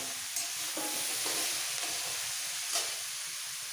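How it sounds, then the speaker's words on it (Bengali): Vegetables and tomato stir-fried in oil for pav bhaji: a steady close sizzle and hiss from the pan, with soft stirring scrapes and no talking. "তেলের মধ্যে সবজিগুলো একটু নাড়াচাড়া করে এর মধ্যে দিয়ে দিচ্ছি টমেটো"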